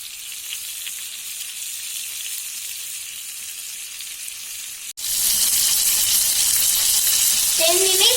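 Tandoori chicken frying in a pan, a steady sizzle that jumps suddenly louder and brighter halfway through as the pieces are turned, with continuous crackling and spitting oil up close.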